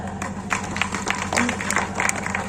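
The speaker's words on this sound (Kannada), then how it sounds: "ಚಪ್ಪಾಳೆ" Audience clapping at a Kannada stage event with gurus and a maharaja present, a steady patter of many hands close by, loud and uneven across a few seconds.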